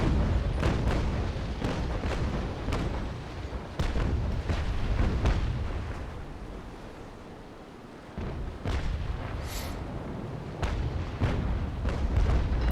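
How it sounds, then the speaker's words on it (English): Ship cannons fire broadsides in the naval battle game Naval Action, a run of deep booming shots and rolling rumbles in uneven succession over a constant loud low roar of battle, with no talking. "Let's continue firing on him."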